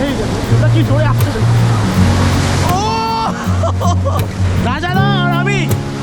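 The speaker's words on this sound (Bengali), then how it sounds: "পুরীর ঢেউ সেই লেভেল" Sea waves at Puri beach rush and break in a loud continuous roar close at hand, while people talk and exclaim over the surf.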